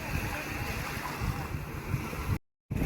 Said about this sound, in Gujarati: આવી રીતે દરિયાની કિનારે આપણી બોટ નજીક આવી ગઈ છે